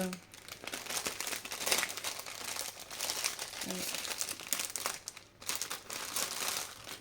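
Small challenge packages are opened by hand, paper crinkling and rustling close up in continuous bursts for several seconds, with a few faint background sounds.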